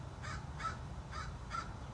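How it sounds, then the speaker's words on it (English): A crow calls four times in an evenly spaced series of harsh caws over a low background hum, fairly close and clear, with no voices. "Crow?"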